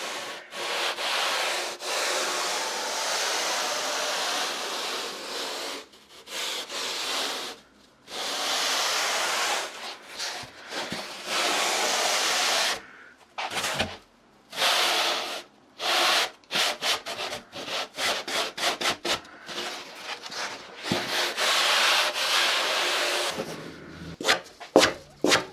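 Hands rub and sweep over a foam surfboard blank being shaped in a workshop, a loud close-up hiss in long strokes broken by short pauses, with no talking.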